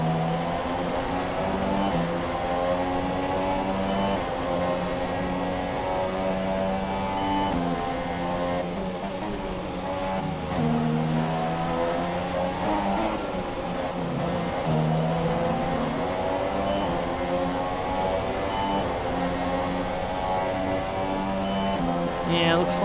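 Formula 1 race car engines in the F1 2017 video game at the Austria Grand Prix, a continuous layered whine rising and falling with revving and gear changes, heard steadily throughout.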